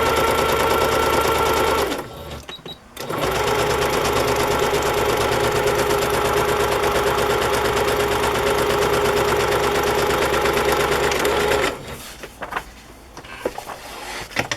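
A sewing machine straight-stitching sheets of paper together, running in a long, loud, steady mechanical hum up close, stopping briefly near the start and stopping again toward the end with a few short bursts.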